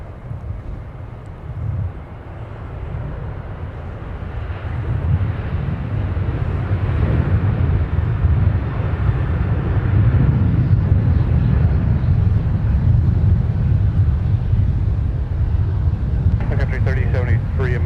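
A Sun Country airliner rolls out for departure on runway 12 right at Minneapolis–St. Paul airport, its engines building into a low, steady roar that swells over several seconds, with wind buffeting the microphone.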